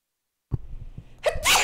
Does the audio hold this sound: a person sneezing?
yes